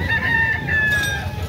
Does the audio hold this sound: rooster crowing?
yes